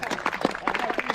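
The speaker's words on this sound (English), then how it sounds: "Let's have a big cheer for the revenge of William." Applause from an audience at a talk in the ruins of Tintern Abbey, a dense run of clapping that lasts throughout, with a voice now and then over it.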